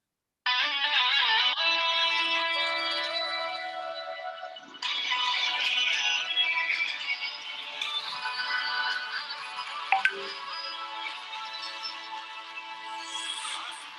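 A caller tune played through a phone from the Wink app, a steady melodic ringtone-style tune running continuously for about fourteen seconds at moderate loudness with no talking over it.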